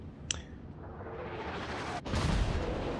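Tirpitz's 15-inch naval guns fire high-explosive shells in World of Warships, a deep muffled boom rumbling on, then a second heavy blast near the end.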